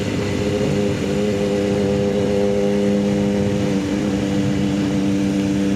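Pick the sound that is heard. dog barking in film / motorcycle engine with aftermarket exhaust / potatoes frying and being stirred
motorcycle engine with aftermarket exhaust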